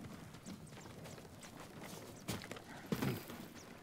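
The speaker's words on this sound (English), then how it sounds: "Samurai horses. A few we didn't take into battle." Horse hooves clip-clop faintly and unevenly in the samurai video game Ghost of Tsushima, a few soft steps followed by a couple of louder thuds near the end.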